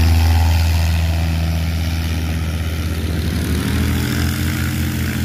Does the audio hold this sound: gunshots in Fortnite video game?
no